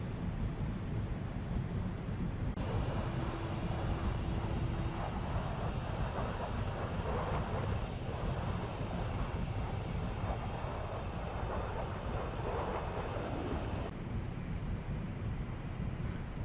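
An Arado Ar-234 jet in the IL-2 combat flight game gliding in to land, a steady loud roar of airflow and engine with a high whine over it, unbroken throughout, with no talk.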